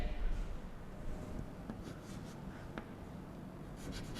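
A pen scratches across paper as the narration for an accounting journal entry is written by hand, quiet and close, with a few soft strokes.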